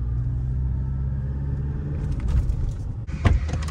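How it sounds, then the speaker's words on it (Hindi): Black 4x4 Toyota Revo pickup with a 3000 cc engine on a test drive, a steady low engine rumble throughout with a few louder bumps and knocks near the end. "4x4 है, 3000 cc है, ठीक है, और इसकी जो है ना सबसे पहली टेस्ट ड्राइव जो है ना जीशान भाई ले रहे हैं"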